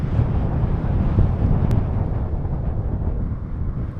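Wind buffets the microphone during a paragliding flight on a breezy day, a steady loud low rumble that fills the whole stretch without letup.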